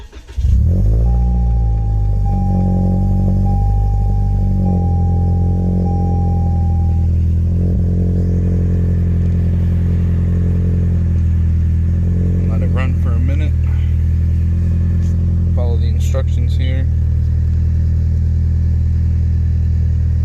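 A Toyota Corolla engine fires up just after a fresh tune flash, then settles into a loud, steady idle with a few rising revs toward the end, close to the microphone.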